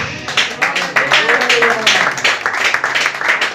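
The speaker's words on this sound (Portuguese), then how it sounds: "A igreja pode aplaudir o Senhor Jesus." A church congregation claps and applauds, a steady rhythmic wash of many hands filling the room at close range, with talk faintly underneath.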